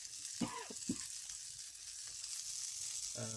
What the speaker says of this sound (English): I'll add in the peppers and the spring onions to help that fry off.